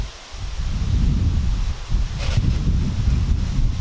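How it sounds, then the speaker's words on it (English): Wind blows outdoors during porch sandblasting with play sand, a steady low rumble buffeting the microphone and rising and falling in gusts, with no talking. "Right now I've got a wind at my back and it's blowing the dust away from me."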